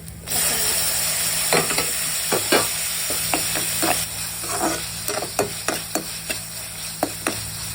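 Onions sizzle steadily in a pan while a spoon scrapes and stirs them in repeated, close clicking strokes, with no talking over the frying.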